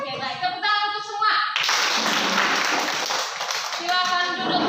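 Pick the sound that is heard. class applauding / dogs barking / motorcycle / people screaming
class applauding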